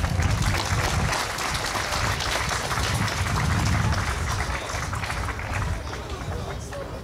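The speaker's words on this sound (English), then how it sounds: "let's give Lance a big round of applause" A crowd claps and stirs steadily at an outdoor National Trails Day press conference in 1993, a dense, continuous wash of applause with a murmur of voices under it for the full stretch.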